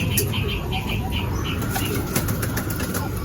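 Racing pigeons flapping their wings in a loft, a steady rustling flutter with faint coos, while someone talks nearby.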